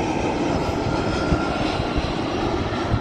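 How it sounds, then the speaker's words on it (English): An EasyJet airliner on its landing approach at Faro, Portugal, a continuous loud engine drone close overhead, rumbling steadily with slight low-end pulsing and no voices. "And he's coming in for a landing."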